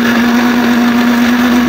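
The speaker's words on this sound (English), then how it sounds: "Now, we blend it." Blender whirring at a constant high pitch while blending banana peels with distilled water, loud, close and steady with no pauses.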